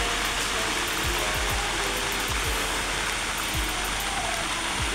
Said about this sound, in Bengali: বাইরে ঝুমঝুম বৃষ্টি